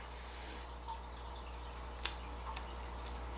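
A single crisp snip of pruning scissors cutting a ficus bonsai branch, brief and fairly close, over a quiet room hum.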